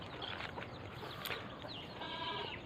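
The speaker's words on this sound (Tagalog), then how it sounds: "nakikita nyo naman yung mga kambing natin" Goats and their young kids in a backyard among other farm animals, bleating faintly and intermittently over a steady background hiss.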